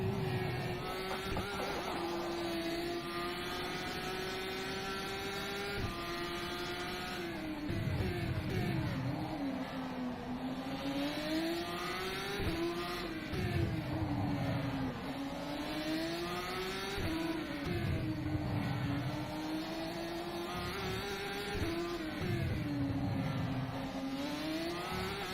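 GP3 formula race car engine in rFactor 2 on the Adelaide circuit, a loud, steady high-pitched whine that climbs and drops with each gear change and corner, running continuously without pause.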